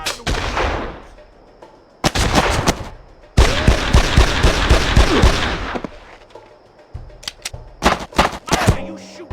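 Heavy gunfire in the crime shooter Made Man as characters shoot out of farmhouse windows near a barn and garage: loud bursts and a long sustained volley, then scattered shots, with brief shouted voices between.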